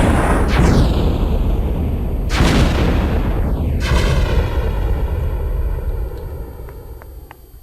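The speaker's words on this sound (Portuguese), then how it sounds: "Mais um tiro no chão." Gunshots from the video game Kogama: three loud booming shots spaced a second or two apart, each with a sharp crack and a long ringing, whistling tail that fades out.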